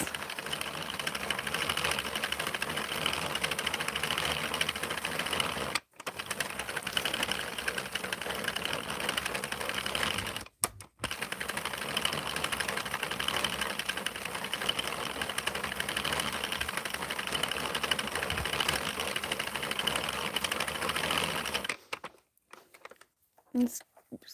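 A 32-pin knitting machine with a tensioner being cranked, a continuous whirring, clattering mechanical drone with a few short breaks, fairly loud and close, then stopping into quieter scattered clicks.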